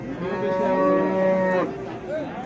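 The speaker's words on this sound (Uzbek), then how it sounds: "Mana sigir bor." A cow at a livestock market in Oqtepa, Oltinko'l district, Andijan gives one long, loud, close-up moo lasting over a second, followed by low market background noise.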